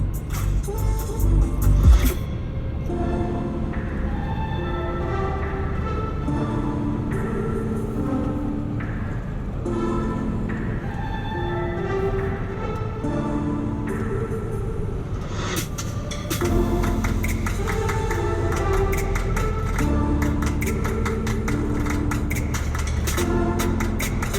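A 2021 Toyota Venza Limited cruising at about 80 mph on radar cruise as it passes a semi-truck, with a steady loud road and engine drone throughout and a brief swell of rushing noise midway.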